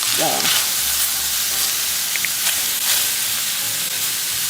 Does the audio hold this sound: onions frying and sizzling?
yes